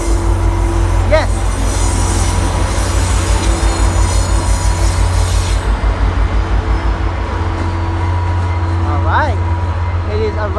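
A Caltrain South County Connector rolls into San Jose Diridon station with a deep, steady rumble and rhythmic wheel clatter. Shrill metallic wheel squeals chirp briefly near the start and again toward the end.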